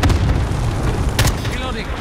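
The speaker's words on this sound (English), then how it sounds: "Cluster strike away." Rolling booms from a cluster strike in Call of Duty: Modern Warfare, loud, dense and continuous across the whole stretch, with a sharper burst partway through.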